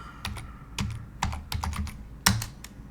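Close, crisp computer keyboard typing in short bursts of clicky keystrokes with brief pauses between groups, as commands are entered at a terminal.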